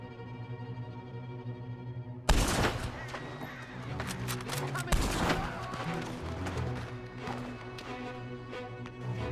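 Gunfire erupts suddenly in a Red Dead Redemption 2 shootout, a loud dense fusillade of shots with sharp repeated cracks over game ambience, a voice talking intermittently underneath.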